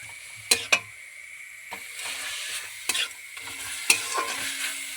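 Ginger frying with softened onions in a pan: a soft, steady sizzle punctuated by a few sharp metallic clinks and scrapes of a stirring spoon, close and clear, without any talk.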